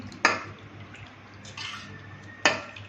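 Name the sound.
stirring dum rice with beef and water in pot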